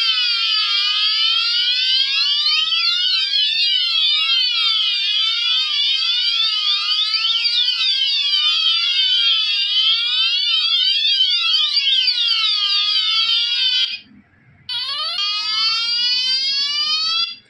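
A loud electronic alarm from a Dahua fire alarm panel, triggered by a manual call point, sounds continuously, with rapidly sweeping tones repeating steadily, briefly cutting out once near the end before resuming.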